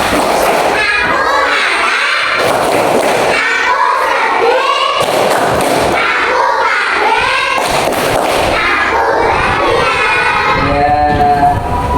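A primary school class of third graders performs a rhythmic expressive clapping routine together, with loud bursts of hand claps mixed with children's shouted chants and voices throughout, fairly close and busy.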